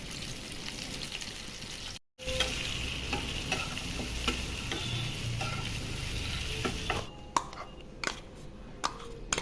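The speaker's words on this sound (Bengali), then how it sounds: "এখন নাড়াচাড়া করে ডিমগুলো ভেজে তুলে নেব।" Eggs sizzle in hot mustard oil seasoned with salt and red chili powder, stirred in a pan. A steady close frying hiss runs throughout with repeated scrapes and clicks of a utensil, briefly cut off once.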